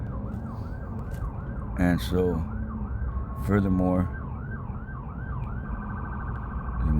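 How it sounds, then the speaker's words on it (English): An emergency vehicle siren wails continuously outside, its rising and falling tone repeating steadily throughout, while someone speaks briefly over it. "let me stay quiet because I don't know what the sirens are about"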